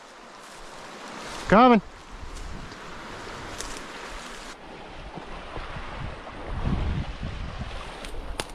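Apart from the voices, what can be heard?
river rapids rushing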